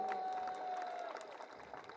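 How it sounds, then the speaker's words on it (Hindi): Dense crowd clapping at an outdoor political rally where Navjot Sidhu is speaking, sustained applause from a large audience with a faint whistle-like tone early on, fading slightly toward the end. "गुरु ठोको ताली अगर आए।"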